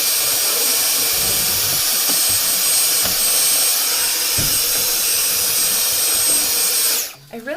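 A loud, steady vacuum cleaner roars close by with a high whine, faint rattles of debris being sucked up from the bottom of a shoe cabinet, then the motor winds down at the end.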